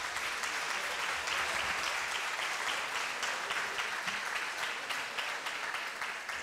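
Audience at an awards gala for the Spanish Capital of Gastronomy applauding steadily, a sustained wash of many hands clapping in a large hall, moderately distant and even in level.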